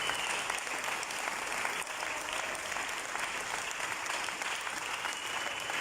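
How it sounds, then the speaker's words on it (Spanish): A church congregation applauds steadily at low, even loudness throughout, a dense continuous wash of many hands clapping with no talk over it. "denle un aplauso al Señor Jesucristo"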